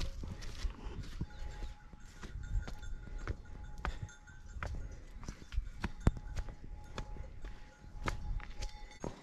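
Cows in a farm barn on a freezing day, heard through a steady run of hoof steps and shuffling knocks on the floor with a faint ringing bell-like tone, close and moderately loud with no talk.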